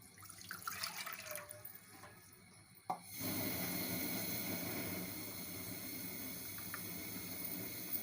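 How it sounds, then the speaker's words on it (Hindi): Water from a tap gushes into a pot for a vinegar pickle, starting suddenly after some quieter kitchen clatter and continuing as a steady, close hiss of filling water. "सबसे पहले इसमें पानी डालेंगे,"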